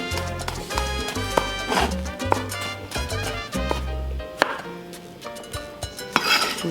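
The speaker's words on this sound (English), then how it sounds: "I'm gonna cut my cucumber into dices as well" Knife dicing cucumber on a cutting board, a run of quick, sharp chops with an uneven rhythm, close and fairly loud over steady background music, no talking.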